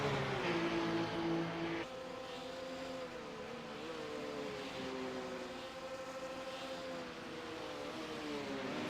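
Race cars roar around the Road America track during the final lap of a 12-hour endurance race, a sustained engine drone with shifting pitch as cars pass, steady and loud throughout.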